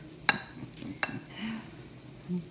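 Battered green tomatoes laid into a hot skillet, two sharp placing clicks followed by a soft, low, steady sizzle of frying, quiet and close.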